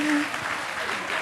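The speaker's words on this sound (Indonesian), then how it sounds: "tepuk tangan untuk Romo Ferdian" An audience applauds a priest at a guest event, a brief, dense patch of steady clapping with a murmur of voices mixed in, loud and continuous throughout.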